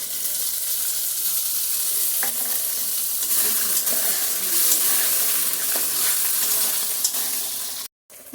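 Whisked yogurt hitting a fried spice masala makes a continuous hissing sizzle with soft stirring scrapes, holding steady before cutting out briefly near the end.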